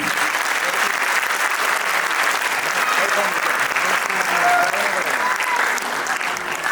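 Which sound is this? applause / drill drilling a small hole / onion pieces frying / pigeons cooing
applause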